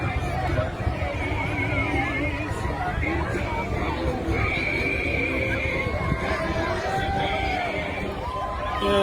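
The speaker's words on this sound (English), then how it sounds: "look at these little ponies or miniature horses" Miniature horses or ponies walking in a small-town street parade, a horse whinny rising now and then over steady crowd chatter and people talking nearby.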